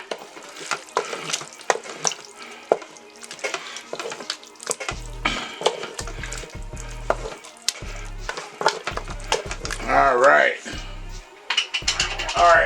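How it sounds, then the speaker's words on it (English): A spoon stirs tomato sauce into chorizo chili in a pot, with wet scraping, clinking and gentle sizzling in bursts and a low rhythmic thumping, while a person talks over it. "And we're going to stir this up a little bit."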